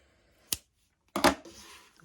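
Scissors snipping crochet yarn, first a single sharp snip and then a second louder cut followed by a brief rustle, close and clear against near silence.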